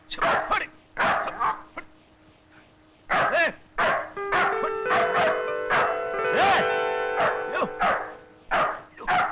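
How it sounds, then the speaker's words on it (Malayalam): A dog barks repeatedly up close, loud and insistent, in a comedy film scene. Some of the barks break into yips and whines, and a voice sounds faintly underneath. "പട്ടി വല്ലാതെ കുറയ്ക്കുന്നുണ്ടല്ലോ"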